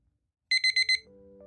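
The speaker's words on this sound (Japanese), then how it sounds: "あ、目覚ましが鳴ってる。" An alarm clock rings in four quick, loud electronic beeps, then falls silent as a low hum and a faint steady tone take over, heard in a ferry cabin during a rest stop.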